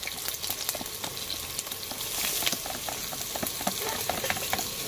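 Onion, garlic and ginger fry in hot oil, a steady close sizzle with frequent crackles and the scrape of occasional stirring, continuous and without talk.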